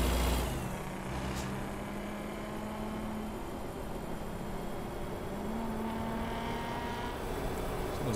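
A Ford Mustang sports car engine drones steadily behind a truck in a highway driving game, a continuous broadband rumble with faint rising tonal whines, loud and unbroken throughout.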